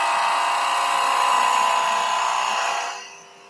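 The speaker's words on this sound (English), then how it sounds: "Then we can hollow. So either with your spindle gouge," A wooden egg being hollowed on a lathe with a gouge: a steady, high whirring cut held for about three seconds, close and loud, then tapering off abruptly into quiet.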